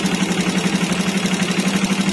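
A motorcycle engine, a Raider J115 Fi with 57mm bore, idles steadily with a fast, even low pulsing throb close up, alone without talk.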